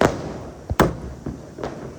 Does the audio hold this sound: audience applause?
no